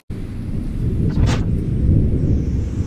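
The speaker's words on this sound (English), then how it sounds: "So that is thunder." Thunder rumbles in a long, heavy, continuous low roll during a snowy storm at sea in the Gulf, heard from a cruise ship deck alongside steady wind and rain noise, with a brief hiss in the middle.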